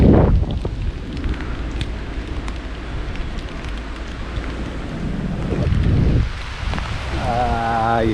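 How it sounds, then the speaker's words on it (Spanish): Heavy rain shower pouring down on a cyclist in Amapá, Brazil: a dense, steady hiss with wind buffeting the microphone, loud and close throughout, and a brief tonal sound near the end. "La cortina de lluvia."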